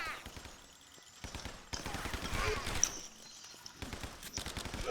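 Rapid bursts of gunfire from the video game Guns Gore and Cannoli 2 crackle in uneven volleys, fairly faint and mixed with someone talking.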